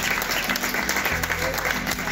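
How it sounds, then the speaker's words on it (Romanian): An audience at a youth gymnastics competition claps continuously, a thick, even burst of applause close to the microphone with a faint low voice mixed in. "vă rog foarte mult să-i aplaudați pe concurenții de astăzi"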